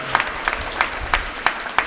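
Sparse, spaced claps from an audience at a chess tournament prize distribution, about six distinct sharp hits at a slow, irregular rhythm.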